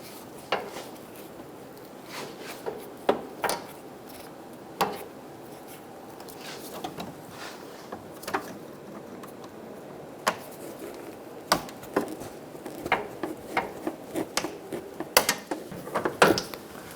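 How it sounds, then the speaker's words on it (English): Pliers pinching and sliding hose clamps on a 2010-2014 Subaru Outback radiator and transmission cooler lines, a scattered series of sharp metallic clicks, snaps and rattles close by against a quiet background. "Using a pair of pliers, pinch the clamps going to the transmission cooler."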